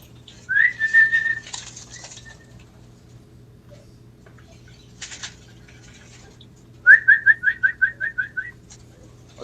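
Birds call at a racing pigeon loft after an 80-mile trainer race, with two bursts of rapid, repeated whistling notes and a brief flutter between them over a low steady hum.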